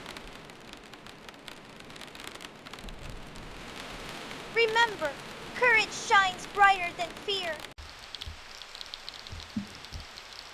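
Steady rain and wind hiss in the background while a voice narrates over it, with the downpour continuing beneath the speech.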